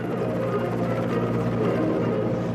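A helicopter passes overhead during a military-style parade with Russian-flagged vehicles, its steady rotor drone loud and continuous throughout.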